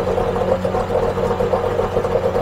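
A two-stroke outboard boat motor on a sea fishing boat idles with a steady, even mid-pitched drone and a fine rattling buzz, close and continuous without talk.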